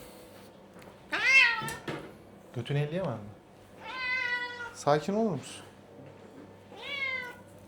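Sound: cat meowing

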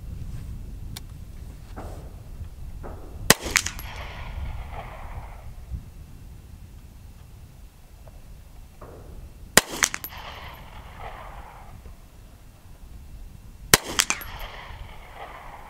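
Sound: Hi-Point rifle firing Winchester 95 grain full metal jacket ammunition

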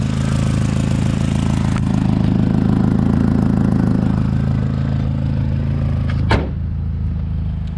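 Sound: car engine with exhaust manifold leak

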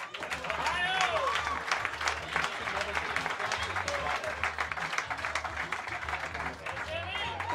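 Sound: audience applauding a comedian coming to the stage

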